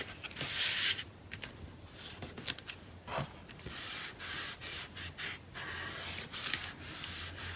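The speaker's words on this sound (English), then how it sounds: "So I'm really burnishing that down really well to try and make sure it stays" Paper being burnished down on a spring farmhouse craft project, a close, steady rubbing and scraping with short strokes repeating throughout, quiet and without any talking.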